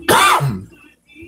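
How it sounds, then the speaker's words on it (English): A person coughs once, harsh and close, a short throat-clearing burst between puffs on a custard strawberry vape, followed by a faint low rumble and quiet. "I was sitting here vaping and coughing and making the vape game look bad over here"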